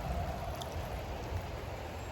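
The Delaware River flows with a steady, broad rushing wash of moving water, continuous and even throughout, no voices present.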